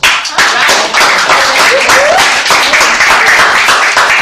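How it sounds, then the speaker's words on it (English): Loud, close audience applause at a video release party, dense continuous clapping from a crowd sustained for several seconds. "So give it a round of applause."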